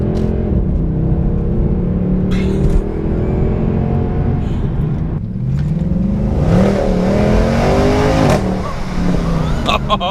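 A 2017 BMW i8 hybrid supercar engine revs loudly up close, its pitch climbing and dropping in rasping sweeps over a steady drone, with a brief whoosh of passing noise.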